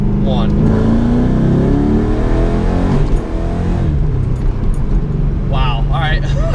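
A Ford Mustang accelerates hard in a quick pull, its loud engine note rising in pitch, dipping at a shift and climbing again, while a person talks over it.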